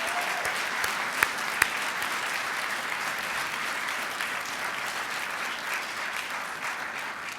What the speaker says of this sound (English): I invite the members of the class of 2014 to give a round of applause to those that came with you today